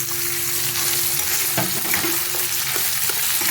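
Green chillies and shelled peas hit hot oil in a frying pan for veg pulao, giving a steady close sizzle with a sharp stir-scrape and spatter bursts midway.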